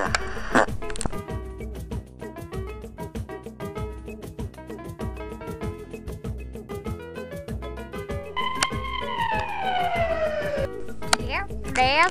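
A voice imitating an ambulance siren with rising and falling wails, loud over steady rhythmic music in a cartoon-style skit, with other talking earlier.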